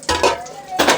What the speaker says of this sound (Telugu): ఇప్పుడైతే నేను 2 గిన్నెలు తీసుకుంటున్నా. ఒకటేమో ఇడ్లీ కుక్కరు అండ్ ఇంకొకటేమో నార్మల్గా గిన్నె